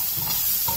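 Crispy potato sabji cooking over a slow fire, a steady soft sizzle and hiss of frying with faint stirring, close and continuous.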